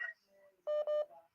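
Telephone line dialing tones sound as two loud, steady electronic beeps in quick succession, preceded by a faint voice and followed by a brief softer tone.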